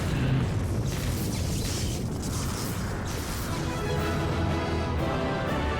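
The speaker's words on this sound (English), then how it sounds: "Cool guys don't look at explosions." Explosions ring out during a Final Fantasy XIV Heavensward Alexander raid fight, a dense, continuous rumble of booms and crashing effects layered together at moderate volume.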